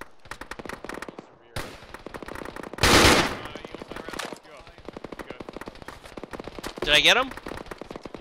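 Machine gun fire in a video game rattles off in rapid full-auto bursts, loud and close, with two heavier blasts standing out, while people talk over the shooting.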